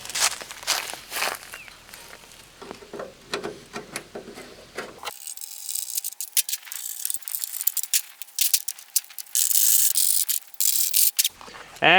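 A ratchet clicks in quick bursts as seized bolts are worked on while pulling the grille off a truck, with metallic rattles, footsteps and tool clatter nearby, followed by a steadier mechanical whirring.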